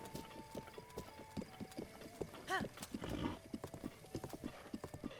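Horse hooves clip-clopping in The Legend of Zelda: Breath of the Wild, a steady run of close, distinct hoofbeats with a brief snort or whinny partway through and a soft game music bed underneath.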